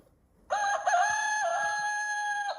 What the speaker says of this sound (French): Cocorico, c'était Cocorico le coq.